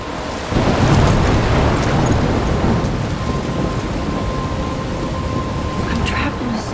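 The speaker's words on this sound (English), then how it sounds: "I'm trapped in a storm?" Thunderstorm in the video game Life is Strange, with a heavy, constant roar of rain and rumbling thunder that swells loud early on and stays dense throughout, a faint tonal hum running underneath.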